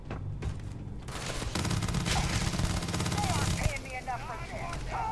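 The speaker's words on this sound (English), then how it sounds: "This is a firefight in a place you shouldn't be having a firefight" Dense, sustained firefight gunfire in the video game Starfield, with rapid bursts and booms packed together, loud and continuous before thinning toward the end. A voice talks faintly under it.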